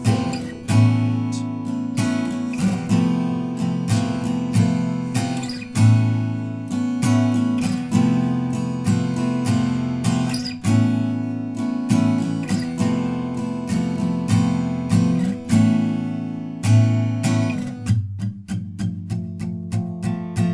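An acoustic guitar strums the chords of the bridge of a song in a steady, even rhythm, with continuous close strokes ringing out, no voices, and the final chord let ring at the end.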